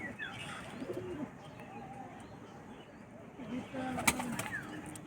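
Low pigeon coos rise from a loft, a few soft calls near the start and again toward the end, with faint chirps and light background noise in between.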